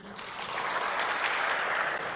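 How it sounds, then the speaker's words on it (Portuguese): Applause from a church congregation at a Brazilian parish gathering, welcoming the guitarist, a steady, dense wash of clapping sustained throughout at moderate volume without any talk. "Palmas pro rei."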